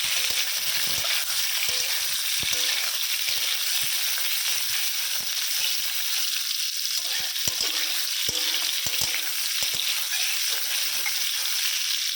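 Tempering spices fry in oil, a dense steady sizzle that lasts throughout with scattered pops and occasional stirring clicks, close and loud.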